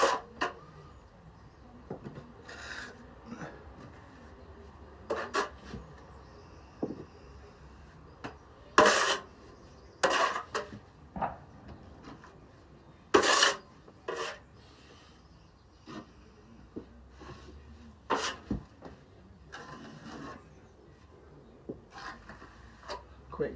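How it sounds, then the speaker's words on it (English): A steel plastering trowel scrapes lightly across fresh plaster on a wall, with intermittent close rasping strokes and sharp taps separated by quiet pauses, and someone talking at times between them. "just a nice light trowel, just to take out the major high spots"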